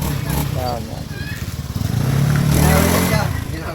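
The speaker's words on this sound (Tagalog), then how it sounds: "Mamo, okay na motor nyo" A Honda Beat motorcycle with a previously rough, wheezing engine idles and revs after repair at a mechanic's, its close, steady putter swelling louder toward the end while people talk over it.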